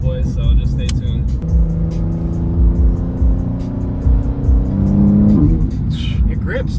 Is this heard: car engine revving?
yes